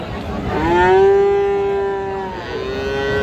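A cow at a Raniganj cattle market gives a loud, close, drawn-out moo that rises, holds and then tails off into a second shorter moo.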